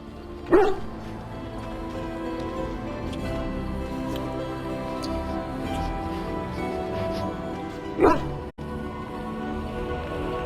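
Dog in the Dragon Age Origins video game barking twice, with single loud woofs about seven seconds apart over a steady bed of ambient game sound and music.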